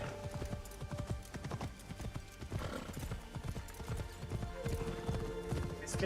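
Horse hooves clip-clop at a steady trotting rhythm in the video game Assassin's Creed Shadows, a continuous run of fairly quiet hoofbeats with no talking over them.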